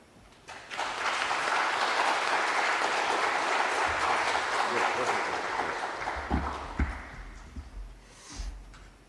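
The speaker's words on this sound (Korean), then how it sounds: "나오실 때 한번 박수로 환영하겠습니다." An audience of pastors at a church seminar applauds to welcome a guest speaker. Dense clapping swells quickly, holds steadily for several seconds, then fades into scattered thumps, footsteps and a voice.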